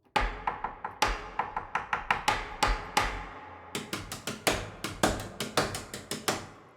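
Sampled hammers striking the wooden lid and back of a piano, a series of sharp, close, dry knocks in uneven rhythm, some quick clusters and some spaced, each with a short woody ring.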